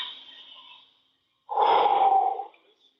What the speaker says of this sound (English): I'm already panting.